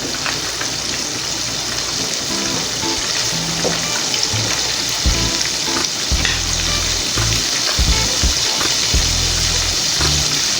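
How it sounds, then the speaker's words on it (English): Conch pieces deep frying in hot oil for Caribbean fried conch: a loud, steady, dense sizzle and crackle that runs throughout, with occasional low bubbling thumps and no voices. "you put your other conch in there as much as you want to, and just let it fry"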